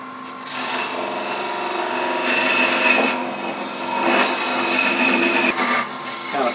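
A parting tool on a wood lathe cuts off a turned pedestal box, giving a steady scraping, whirring grind against the spinning wood that swells and eases as the tool rocks in and out.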